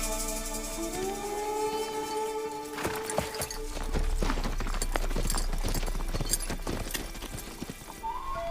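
Horse hooves clip-clop in a quick, steady rhythm, fairly close and clear, starting after a few seconds of droning tones.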